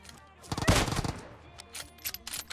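Kar98 rifle fire in PUBG Mobile, a sharp nearby gunshot followed by a cluster of rapid cracks and scattered fainter shots from the game.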